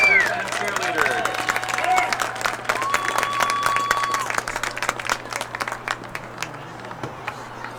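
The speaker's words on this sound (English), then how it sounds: "Let's have one more round of applause for the class of 2020 football players, managers, and cheerleaders." Crowd applause at a high school football game honoring senior players, managers and cheerleaders, a steady broad wash of clapping and cheering lasting throughout, with a tone sounding beneath and a voice or two in the crowd.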